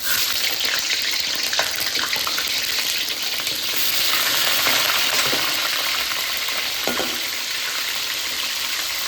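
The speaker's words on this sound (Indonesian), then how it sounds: "minyaknya sudah panas. Ini dia, waktunya sekarang kita goreng ikannya" Tilapia sizzling steadily in hot oil in a home kitchen, a dense continuous crackle with occasional sharper pops, close and fairly loud throughout.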